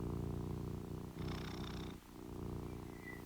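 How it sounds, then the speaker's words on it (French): A cat purrs close by in a steady, low rumbling rhythm that pulses with each breath, continuous and fairly loud, with a brief dip partway through and no talking. "Nous percevons peut-être aussi la vibration du ronronnement ou les mouvements légers"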